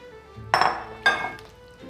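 A utensil stirs drained Great Northern beans into a pot of white chicken chili, giving two sharp metallic clinks against the pot half a second apart over soft background sound.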